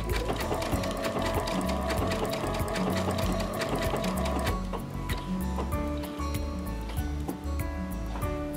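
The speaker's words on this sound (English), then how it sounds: "And I'm going to start sewing." A quilting sewing machine with a laser guide runs decorative stitches in a steady, busy mechanical chatter that continues without a break.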